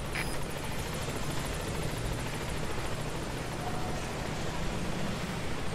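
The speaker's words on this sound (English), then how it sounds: "Helicopter has arrived. Please select a landing zone." Helicopter arriving in the video game Metal Gear Solid V, a steady broadband rotor roar with fast blade chop, loud and continuous throughout with no speech over it.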